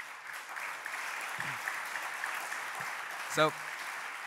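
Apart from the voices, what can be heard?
audience applause at an event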